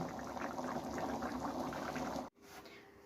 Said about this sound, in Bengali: এবার একটু ফুটবে, তারপরে নামিয়ে নেব